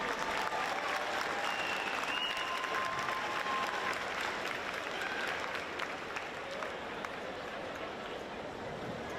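A large audience at a high school commencement gives graduates sustained, dense applause, a steady roar of many hands clapping throughout with no talk over it.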